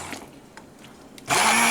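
Food processor pulsing a chunky mixture of onion, garlic and meat into a mince-like texture, kicking in loudly after a quiet stretch and running steadily at close range with no talk.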